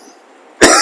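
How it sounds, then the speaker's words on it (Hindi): A single loud, close cough from a man teaching a chemistry lesson, abrupt and harsh, following a brief quiet moment. "खांसी आ गई।"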